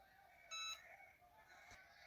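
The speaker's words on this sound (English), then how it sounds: "it will beep when it's all ready" Cricut heat press giving a single short electronic beep when ready, clear but quiet in a near-silent room, followed by a faint click.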